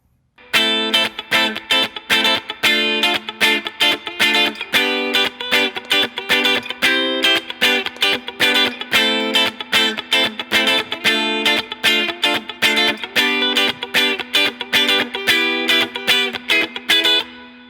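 Distorted electric guitar strums the chords of a song in a steady, loud rhythm of repeated chord hits, played alone without any voice.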